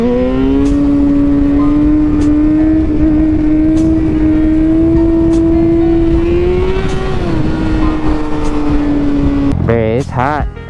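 A motorcycle engine used for wheelies in the sunset hums loudly at steady revs, climbs slightly, then eases back, with a sharp burst of changing pitch at the very end.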